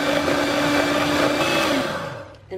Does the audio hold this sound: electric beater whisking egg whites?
yes